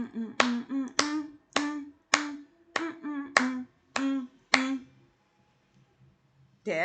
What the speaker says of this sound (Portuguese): ele tem que contar 10 palmas